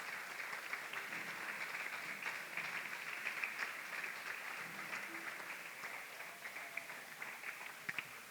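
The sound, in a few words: audience applause for teachers and staff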